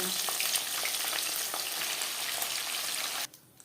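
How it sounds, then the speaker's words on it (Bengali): Pabda fish frying in hot oil in small batches in a kadai, giving a loud, steady crackling sizzle with tiny pops that cuts off abruptly near the end. "অল্প অল্প করে আমি মাছ ভেজে নেব"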